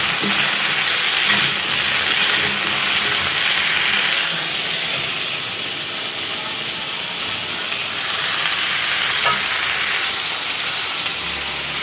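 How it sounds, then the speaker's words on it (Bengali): Prawns fry in a pan with a loud, steady sizzling hiss that swells and eases slightly, close and continuous with no voices over it. "আর এখানে হচ্ছে চিংড়ি মাছ ভাজা"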